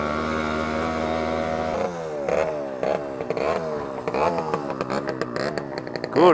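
A 50cc moped engine buzzes while riding, first a steady drone, then rapid revving rises and falls with clattery shifts as it accelerates, loud and close.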